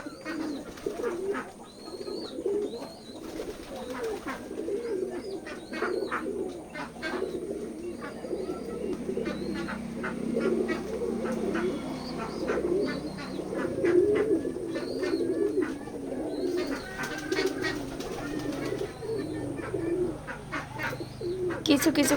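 Pigeons at a pigeon farm in Betikhola village, Keshabpur, Jashore, cooing in a steady, dense chorus of overlapping throaty coos with scattered higher chirps, close and continuous throughout.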